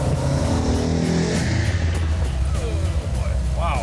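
A V8 car running Holley carburetors and a Comp Cam 284 duration camshaft downshifts to second gear at about 50 mph, its engine loud and close, the tone dropping and surging, with a brief voice partway through.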